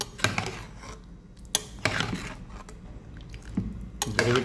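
A Kerala-style mutton curry topped with coriander leaves being mixed in a pot, with a few sharp metallic clanks of a spoon against the pot between softer scraping and wet stirring, close and without speech.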